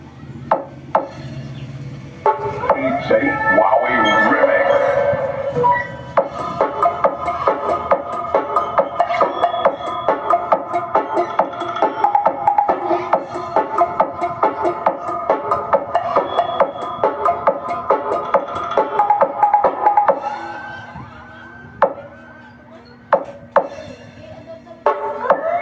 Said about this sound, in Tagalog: Mas malaki talaga yung tunog ng ating 300 watts na trumpa dito.